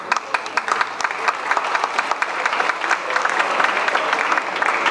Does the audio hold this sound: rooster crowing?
no